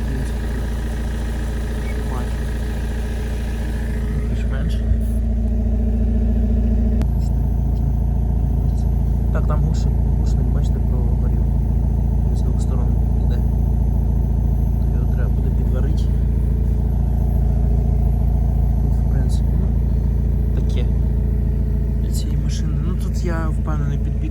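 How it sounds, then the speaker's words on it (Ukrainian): A Kia Rio car engine runs just after a cold start, a steady low idle rumble close by, with a shift in pitch early on as the revs settle, someone talking over it, and scattered small clicks. "Холодний запуск."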